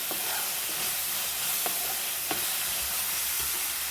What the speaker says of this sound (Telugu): చక్కగా వేయించుకుందాం ఫ్రెండ్స్ ఈ ఉల్లిపాయ వేగిపోయింది ఫ్రెండ్స్ చూడండి ఆయిల్ బయటకు వచ్చేస్తుంది కదా